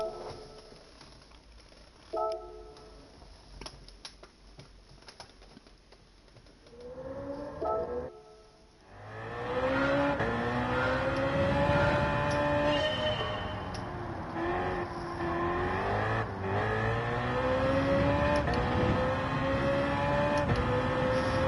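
A stock BMW Z4 on hard tyres in Gran Turismo 7: after a quiet stretch of menu clicks and short tones, the engine fires up and revs through rising, falling gears, loud and continuous, with no talking.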